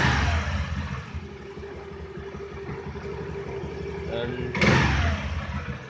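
A Honda Aviator scooter engine runs at a low idle beneath Hindi speech, followed by a sharp mechanical clunk and a brief rise in engine noise near the end.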